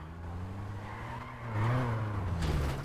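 A car's engine drones and then rises as its tires skid and squeal in Grand Theft Auto V, a sustained tonal hum that swells midway, heard alone.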